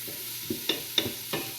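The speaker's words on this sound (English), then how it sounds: "So I can still hear the sizzling" Onion and garlic sizzling in a chicken soup pot, a quiet steady hiss broken by a few soft stirring clinks and taps.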